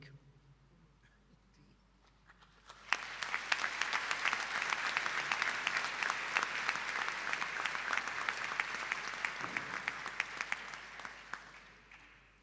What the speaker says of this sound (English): the people that has come alongside you need to applaud you